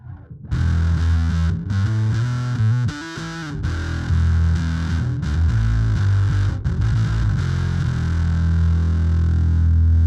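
A bass guitar played through a fuzz pedal with its tone switch flipped down, giving loud, thick, heavily distorted notes that shift in pitch and ring on with a dense, buzzing sustain and no talking.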